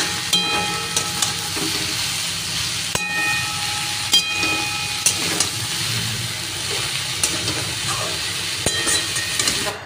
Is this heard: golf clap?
no